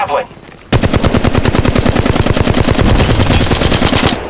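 A weapon in Apex Legends Mobile fires a loud, sustained stream of rapid, evenly spaced automatic shots lasting about four seconds, after a brief quieter moment at the start.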